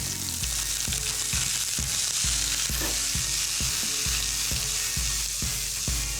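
Sliced onion dropped into a hot pan with mustard seeds, a steady loud sizzle throughout with regular scraping stir strokes roughly every half second, close and alone without talk.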